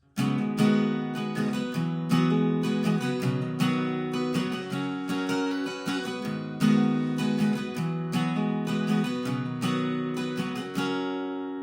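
An acoustic guitar strums the chords of a song with hammer-on embellishments, a steady up-and-down rhythm ringing out clearly and alone throughout.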